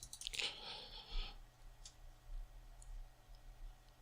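A computer mouse double-clicked while browsing network folders in a file manager on Peppermint 8 Linux: a quick cluster of crisp, close clicks, then a few faint isolated ticks over quiet room noise.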